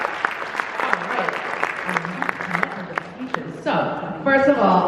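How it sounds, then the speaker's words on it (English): At a high school jazz concert, the audience gives a sustained, dense round of applause for the student tech crew, fading as a voice begins talking. "So big round of applause for our student tech crew as well."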